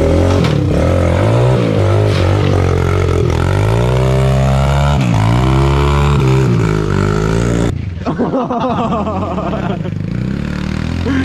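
A cold diesel truck engine roars loudly and steadily, its pitch rising and falling with revving, then dropping sharply toward the end.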